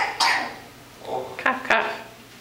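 A young child coughs a few times indoors at close range, short throaty bursts spaced through the moment, with light vocal sounds between them.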